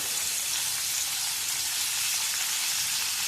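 Paneer frying in hot oil until golden gives a dense, even sizzle that holds at a constant level the whole time, close and loud, with no talk.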